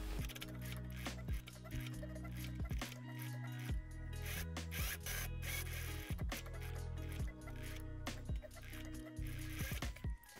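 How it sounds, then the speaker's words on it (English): A sewing machine quietly stitches two tunic collar pieces together, a soft, steady mechanical whir with regular rhythmic pulses throughout. "I can just sew those two pieces together like so. And I'm just gonna sew from here to here."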